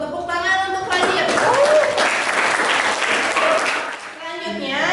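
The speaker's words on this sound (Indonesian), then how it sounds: "Tepuk tangan untuk Rajib" A classroom of students applauds together, a dense sustained round of clapping that swells and then tapers, with a teacher's voice audible over it at the start and end.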